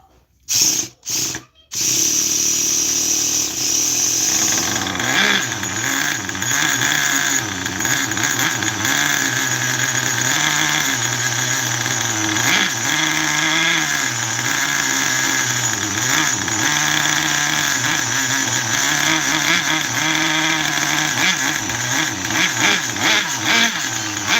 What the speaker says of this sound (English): still see how rich this engine is?